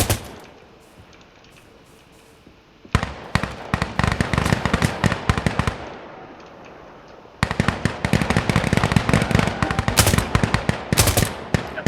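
Automatic rifle fire in the Insurgency Sandstorm game comes in loud, rapid bursts, one long volley after a quiet stretch, a brief pause, then another sustained burst of dense, sharp shots.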